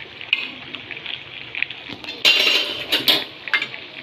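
A metal lid clatters onto a cooking pot of mutton masala curry, with a loud clink and rattle partway through and lighter utensil clinks before and after.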